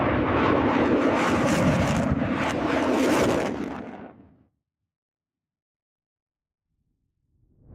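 Loud, dense roar of US Air Force F-15E Strike Eagle fighter jets flying at full power, filling the first four seconds before cutting off to silence, with a faint rumble returning at the very end.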